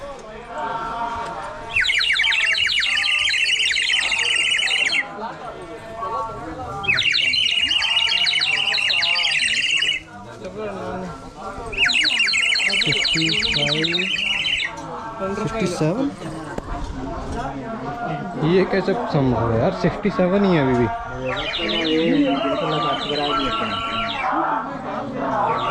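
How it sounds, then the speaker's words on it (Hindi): Bursts of shrill, warbling bird-like whistles come in repeated phrases, likely from a toy whistle, while someone talks underneath amid outdoor bustle. "ये चिड़ियों की आवाज़ निकालने वाला खिलौना बेच रहे हैं"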